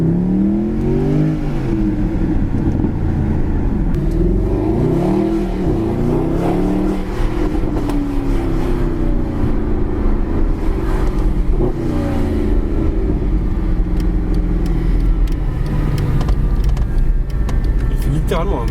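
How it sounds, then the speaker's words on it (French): A Mercedes SLS AMG's engine is revved repeatedly up close, its deep roar sweeping up and down in strong waves for nearly twenty seconds, with someone speaking over it. "Il fait littéralement un bruit d'avion de cette bagnole"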